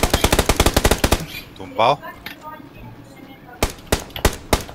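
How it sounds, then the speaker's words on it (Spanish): Bursts of automatic gunfire from the battle royale game PUBG, rapid loud shots at the start and again near the end, with a player speaking briefly in between. "No sé quién me ha disparado."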